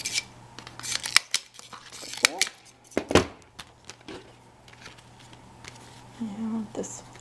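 Scissors snip through ribbon for a homecoming garter mum backer, a series of close, crisp cuts at irregular intervals with a voice talking over parts of it.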